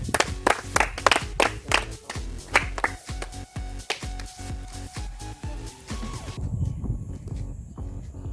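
An audience claps loudly in quick irregular bursts of sharp, close handclaps, then the clapping gives way to a lower murmuring rumble near the end.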